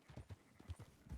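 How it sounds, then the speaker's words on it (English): Horse hooves clip-clop in a steady, rhythmic gait in the Red Dead Redemption 2 video game, several close, distinct thuds over about a second with no talking. "Horse."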